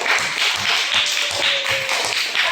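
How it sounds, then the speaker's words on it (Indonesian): A classroom group claps for group 1, steady brisk applause from several pupils, close and lively throughout with no pause. "Beri aplaus untuk kelompok 1."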